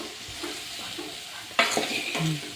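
A spatula stirs onion and masala frying in a pan for a cabbage dish, with soft sizzling that breaks into a sharper scrape and clatter partway through.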